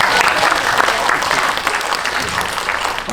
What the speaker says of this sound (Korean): 너무 박수 감사하고요